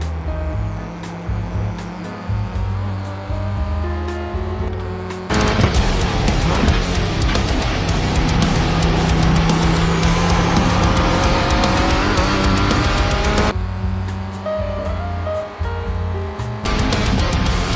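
Race cars roar around a track in iRacing, with engine drone close and steady throughout, swelling louder in the middle stretch with tire noise before easing back toward the end.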